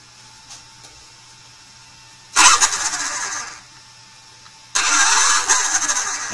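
A Schwaben-Tec Velociraptor 1000 motor is switched back on after an install: after a quiet start, two loud, close whirring runs start abruptly, each holding steady for a couple of seconds, with a short lull between them.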